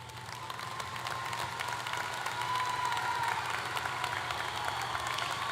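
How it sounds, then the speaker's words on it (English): Sustained applause from a high school commencement audience as families and parents stand to be recognized, a steady, even wash of clapping at moderate distance with faint crowd murmur underneath. "please stand to be recognized with this big round of applause"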